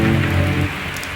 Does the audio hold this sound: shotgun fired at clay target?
no